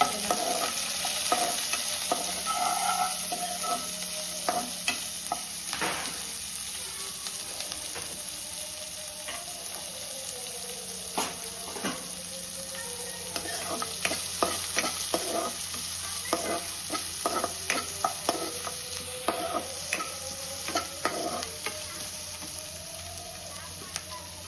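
Curry leaves, green chillies and onion fry in hot oil with steady sizzling, while a spoon scrapes and stirs the pan in frequent sharp clicks throughout.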